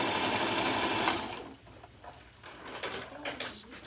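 A sewing machine stitches a small t-shirt seam, the motor whirring loud and steady for about a second and a half, then running softer in short uneven bursts as the fabric is turned along the edge.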